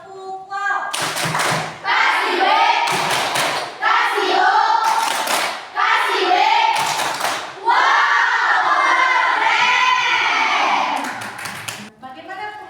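A school class performs rhythmic group clapping in bursts, with sharp hand claps and thumps alternating with children's voices chanting and calling out between the beats, close and lively.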